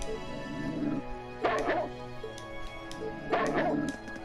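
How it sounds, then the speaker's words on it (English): Two bursts of dog barking from the video game Trails of Cold Steel, at about 1.5 and 3.5 seconds, over steady game music. "Wonder what that dog's problem is"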